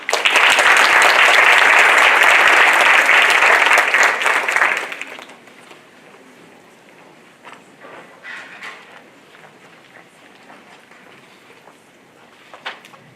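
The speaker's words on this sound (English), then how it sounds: "Please help me welcome this group with an applause." An audience welcomes a group presenting Indian culture with a loud wash of applause that lasts about five seconds, then drops sharply to a quiet room with scattered late claps, shuffling and footsteps.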